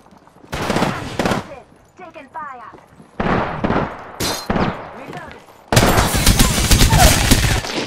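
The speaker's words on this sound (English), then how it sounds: "Taking fire." Video game gunfire in Apex Legends, bursts of rapid automatic shots in several loud, close clusters separated by short pauses, with a final sustained barrage and a voice speaking between bursts.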